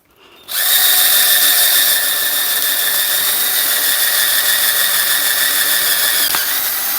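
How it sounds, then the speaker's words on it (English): A drill starts up after a brief pause and runs continuously at high speed through a wooden post, a loud steady whine with a slight squeal near the end. "And just keep drilling."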